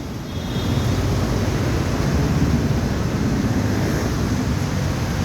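Steady, heavy wind roaring and buffeting outdoors near EDSA on a rainy morning, a continuous low rumble that swells in the first second and then holds without a break.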